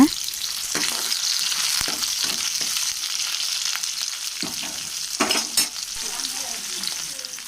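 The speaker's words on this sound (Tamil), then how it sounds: "தாளித்ததும் வெங்காயம், தக்காளி, பச்சை மிளகாய் 3ஐயும் சேர்த்து நல்லா வதக்கிக்கோங்க" Onion, tomato and green chili sauté in sesame oil for a spinach kootu, giving a steady close sizzle broken by occasional scrapes and clinks of stirring.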